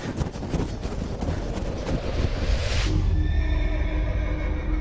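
Horses on a mountain hunting trip give a loud, drawn-out neigh that rises and then breaks into a shaky whinny, heard up close outdoors with light wind.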